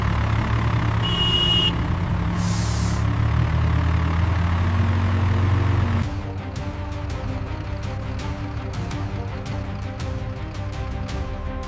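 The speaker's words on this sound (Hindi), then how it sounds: "विक्रम, ये अशोक लीलैंड है और चलाने वाले तुम हो।" An Ashok Leyland truck turns and drives on a village road, its heavy low engine rumble loud and close for several seconds before dropping into a quieter, more distant drone.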